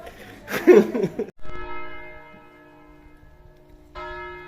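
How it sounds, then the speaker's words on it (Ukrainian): Church bells ring out for Christmas with sustained, layered tones after a burst of laughter and voices, then a fresh strike joins the lingering hum. "слухаємо різдвяні дзвони"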